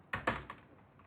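A few sharp keystrokes on a computer keyboard while entering HTML code, three distinct clicks close together and then quieter taps, close and alone with no talk.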